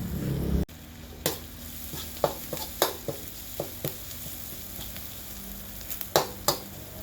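Marinated pork with holy basil stir-fries in a pan over medium heat under a steady hiss, with a spatula scraping and clacking in irregular strokes; no one speaks.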